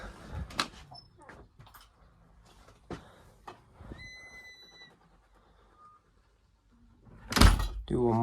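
A door fitted with a door closer opens and swings shut, with scattered knocks and clicks, a quiet stretch, then a heavy thud as it closes near the end.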